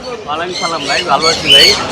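A parrot at the Mirpur-1 bird market in Dhaka gives loud, harsh squawks in quick succession, close by, with market voices mixed in around it.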